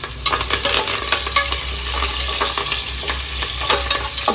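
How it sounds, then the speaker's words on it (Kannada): Chopped onion and curry leaves frying in a pan, a loud continuous sizzle with repeated scraping stirs of a spatula and a low hum beneath; no speech. "ಆಮೇಲೆ ಬ್ರೌನ್ ಬರುತ್ತಂತ ರೋಸ್ಟ್ ಮಾಡ್ಕೋಬೇಕು, ಫ್ರೈ ಮಾಡ್ಕೋಬೇಕು, ಬ್ರೌನ್ ಕಲರ್ ಬರುತ್ತೆ"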